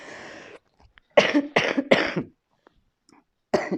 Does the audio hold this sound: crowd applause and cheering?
no